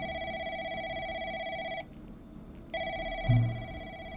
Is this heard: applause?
no